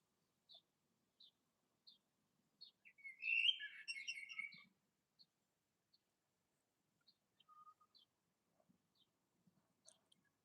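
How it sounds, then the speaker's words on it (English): Birds chirping outdoors in a quiet setting, with short repeated tweets spaced apart and a brief burst of busier twittering song in the middle. "for the sound of the birds"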